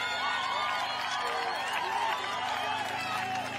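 Children cheer and clap for cyclists passing at a UCI cycling race in Rwanda, a lively crowd of high voices shouting steadily without a break, close and loud.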